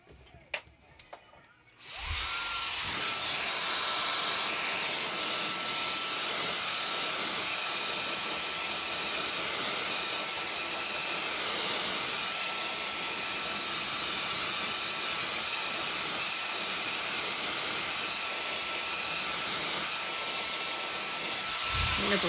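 A hair dryer blows hot air onto a wig in a steady, close, loud rushing hiss that starts after a brief moment of handling sounds and runs unbroken to the end.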